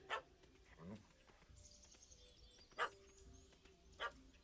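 A large dog in The Witcher 3: Wild Hunt – Hearts of Stone gives three sharp, separate barks, each a few seconds apart, over a quiet game soundscape.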